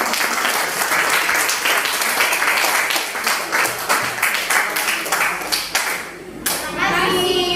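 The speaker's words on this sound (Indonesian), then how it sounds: "berikan tepuk tangan kepada kelompok 1" A classroom group claps for the first student group after its presentation, steady dense applause running throughout with children's voices mixed in, tapering briefly near the end before swelling again.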